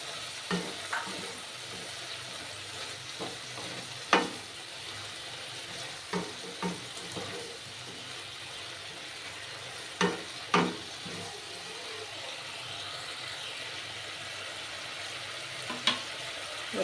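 Chickpeas and paneer sauté in a pan with a little oil, a soft continuous sizzle punctuated by scattered spatula scrapes and stirring clinks at irregular intervals, with no talking.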